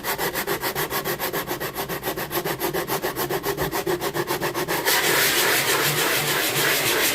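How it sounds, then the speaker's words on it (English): An angle grinder fitted with a 40 grit sanding attachment grinds across a wooden chopping block countertop, loud and close, with rapid rhythmic scraping that turns into a smoother continuous rasp near the end. "I reached for my 40 grit angle grinder attachment."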